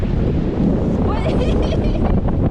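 Strong wind buffets the microphone on a cold, snowy camping trip in Kyushu, making a continuous, loud, low rumbling roar for the whole stretch, with possible faint voices beneath.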